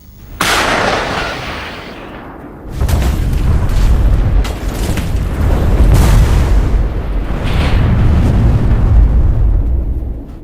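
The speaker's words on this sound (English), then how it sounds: "Coordinates are relayed rapidly to the nearest artillery battery, which opens fire with cluster munitions." An artillery battery fires cluster munitions at a Russian tank convoy. Loud, deep booms and blasts come in several bursts, each followed by a long rumbling roar, with no talking.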